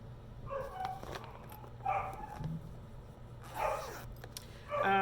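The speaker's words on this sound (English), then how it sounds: "I'm sorry you're going to hear that puppy in the background this whole video" A puppy in the background gives short, intermittent yips and barks in several separate bursts, moderately close, over a low constant hum.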